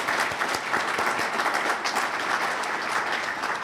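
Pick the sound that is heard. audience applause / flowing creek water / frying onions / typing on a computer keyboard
audience applause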